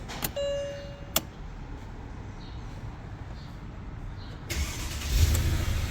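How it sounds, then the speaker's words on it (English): A Mercedes S550 engine, 2007-2013 generation with 52,000 miles and a newly replaced starter motor, cranks and catches after a couple of sharp clicks, then settles into a steady low idle with a brief rise in revs near the end. "Start the car."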